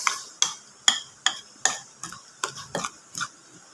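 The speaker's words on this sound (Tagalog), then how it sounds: "Ayan, halo-haloin lang natin." Spoon stirring an eggplant dish in a pan, roughly nine sharp scraping clicks in a steady rhythm, close and fairly loud, with no voices.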